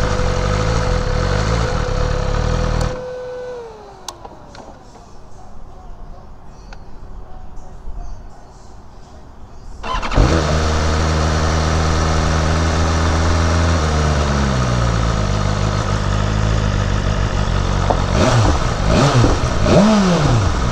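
A KTM RC8 R superbike engine idles loud and close, cuts out into a quieter stretch, then fires up again and revs with rising and falling throttle sweeps.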